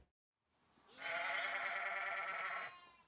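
A newborn lamb bleats once on a farm in a single drawn-out, wavering cry lasting about two seconds. The call is clear but faint, heard alone against quiet surroundings.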